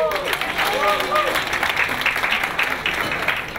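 A crowd applauds steadily throughout, a dense wash of clapping with voices mixed in underneath.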